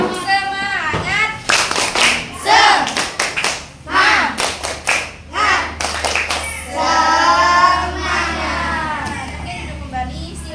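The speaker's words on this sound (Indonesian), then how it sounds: "Tepuk semangat." A classroom of standing students performs a rhythmic spirit clap together, sharp bursts of clapping in patterned groups alternating with a teacher's voice and children chanting along.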